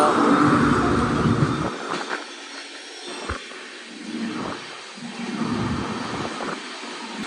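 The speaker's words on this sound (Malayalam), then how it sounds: "ഇത് മുംബൈന്ന് പൂനെക്ക് പോകുന്ന ഡെക്കൻ എക്സ്പ്രസ് ആണ് പോകുന്നുണ്ടോ." Deccan Express train on the Mumbai–Pune line through the Bhor Ghats, a deep rumbling roar that is loud at first, then fades and swells in uneven waves with a few sharp clanks as the carriages roll past.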